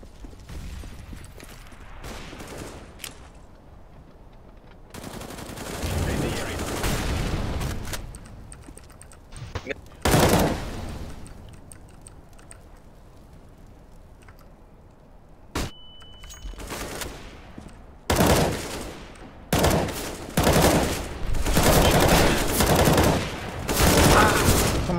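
Rapid gunfire bursts from a FACEIT competitive shooter match: intermittent loud volleys and single shots between quieter stretches of keyboard clicks and in-game effects, with people talking over parts of the action.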